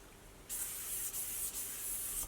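Several short bursts of perfume sprayed from a pink bottle, close and crisp hissing mists separated by brief pauses.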